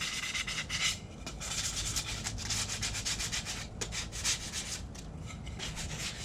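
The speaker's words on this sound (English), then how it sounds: "So you're going to want to pick your straightest edge and get a little sand on it." Sandpaper rubbed along the straight edge of a wooden pantry shelf board, a steady close scratchy hiss in quick back-and-forth strokes with brief pauses, no talking.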